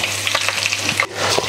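A Cheeto-coated chicken piece dropped into hot oil in a pan for shallow frying, sizzling loudly and steadily at close range.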